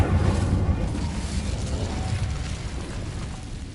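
A fire spell called Incendio is cast in the Hogwarts Legacy video game, giving a loud, continuous roaring burst of flame that fills the clip and fades slightly toward the end.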